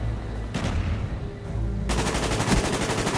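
Gunfire in a shooter video game, with a burst of shots, a pause, then a long sustained automatic volley, loud and close, with no talk over it.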